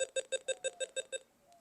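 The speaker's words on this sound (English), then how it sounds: "as long as you hear that beeping noise, that means that your dog is receiving stimulation" Eight short electronic beeps from a dog e-collar training speaker box in a steady rapid rhythm, bright and tonal, followed by a brief quiet tail.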